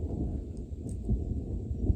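Thunder on a mountain top during heavy rain, a faint, low rumble rolling along in the distance with a few soft thumps, fairly quiet and with no voices.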